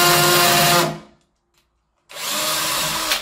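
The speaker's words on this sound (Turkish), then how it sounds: "Şimdi sıra geldi dübelimizin girecek olduğu şekilde güzelce deliğimizi genişletmeye." A power drill whines at steady high speed while widening a hole in ceramic wall tile for a wall plug, running in two close, loud bursts separated by about a second of silence.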